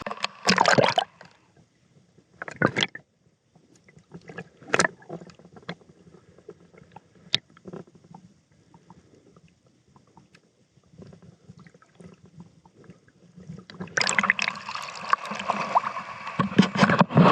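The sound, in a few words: muffled water sounds from a camera held underwater at the beach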